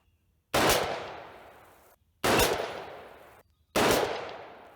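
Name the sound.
rifle shots fired at range, 60 grain V-Max reloads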